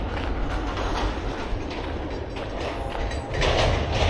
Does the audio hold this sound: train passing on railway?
yes